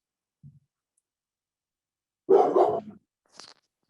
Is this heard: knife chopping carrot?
no